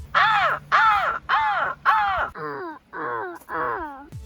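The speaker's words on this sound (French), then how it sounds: "Écoute l'oiseau" A bird call of seven harsh, loud caws in an even rhythm, the last three lower and hoarser, close by with no other sound between them.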